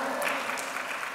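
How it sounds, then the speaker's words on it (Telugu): Congregation clapping in praise during a Telugu church sermon on the Song of Solomon, a brief, dense wash of steady applause filling the room. "చప్పట్లు కొట్టి దేవుని స్తుతిద్దాం"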